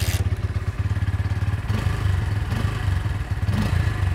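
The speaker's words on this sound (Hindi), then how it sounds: "नाउ लेट्स सी कि whether we can start it on और not on the single kick." A Bajaj Pulsar P150 motorcycle's single-cylinder engine idling after a kick start, a rapid, steady putter close by with a faint clatter.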